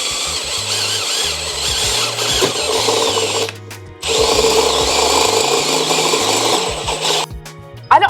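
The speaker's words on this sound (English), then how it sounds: "All right, time to drill in the very center of that oval." A step drill bit bores a hole for a fog light on a Porsche 914, a loud high whirring grind in two long bursts with a brief pause between them, ending in a few clunks.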